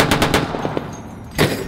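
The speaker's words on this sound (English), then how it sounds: "Obviously the people come out here for the gunfire." Rapid bursts of blank heavy machine-gun fire in 12.7x108 mm Russian caliber at a historical battle reenactment, loud and close, a stuttering volley, a brief lull with scattered pops, then another burst.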